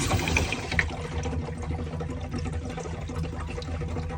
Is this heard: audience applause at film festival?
no